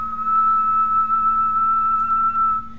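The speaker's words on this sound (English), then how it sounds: "I'll whistle a little bit lower now," A person whistles one steady, sustained tone, somewhat lower in pitch, to test an alarm triggered by frequency; the clear pure note holds for nearly three seconds over a faint low hum.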